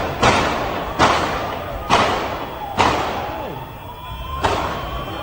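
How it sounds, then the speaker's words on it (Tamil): Five heavy booming blasts land about one second apart during a night attack on Israel. Each is loud and close and rolls off into a rumbling tail, with a faint rising whine between them. "இவங்க ராத்திரி முழுக்க இப்படி பாம்ஸ் விழுந்துட்டே இருக்குங்க அந்த நாடு மேல"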